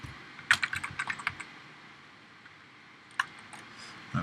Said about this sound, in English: I'm gonna type in, and I want you guys to type in your name